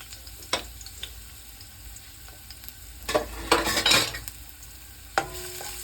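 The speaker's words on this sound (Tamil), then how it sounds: "அந்த பூண்டு ஒரு நாலஞ்சு பல்ல தட்டி இந்த எண்ணெயில் சேர்த்துக்கணும்" Crushed garlic cloves sizzle in hot oil, sautéed in a pan for tamarind rice. A steady low frying hiss is punctuated by spoon taps and a loud surge of crackling midway, with no talking.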